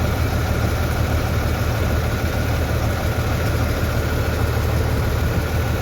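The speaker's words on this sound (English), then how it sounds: "then we'll get the tractor over there" A low, steady tractor engine idles continuously with a constant rumbling drone and no change in pitch throughout.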